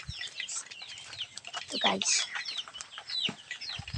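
Chickens, including a hen with her chicks, cluck and chirp in short, repeated calls at close range while someone speaks over them.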